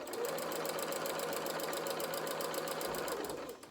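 A sewing machine stitching a fabric bear's body and limbs runs in one continuous fast burst of rapid, even needle strokes, close and alone, stopping near the end.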